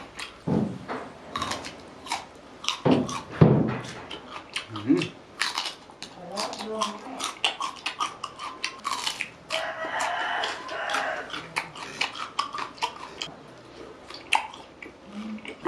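Someone bites into and chews an unusual Thai papaya salad with pickled shellfish, giving close, crisp crunches in uneven bursts, with mouth sounds and voices around them.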